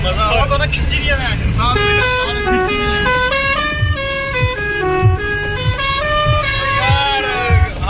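Bus pressure horn blaring in a repeating multi-tone melodic pattern, loud and close, playing under a voice in the cab.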